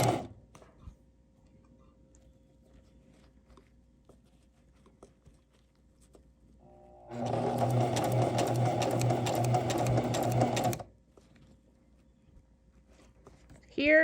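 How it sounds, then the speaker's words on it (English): Sewing machine running steadily for about four seconds as it stitches fabric strips down the middle of the presser foot, a loud dense whir alone between quiet stretches. "You can see it goes right down the middle of my presser foot, and I keep sewing."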